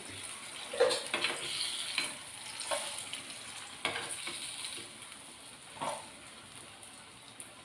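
Batter-coated mango bajji fry in hot oil with a soft continuous bubbling sizzle, broken by several brief splashy bursts as pieces are lowered or turned; fairly quiet and close, with no talking.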